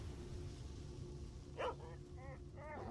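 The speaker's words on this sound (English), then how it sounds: "I'll only fight the dog in self-defense." A dog in a video game gives a few short barks and yips, faint and spaced out over a low background hum, with a brief louder bark in the middle.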